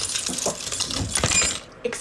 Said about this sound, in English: It's the keys dangling for me.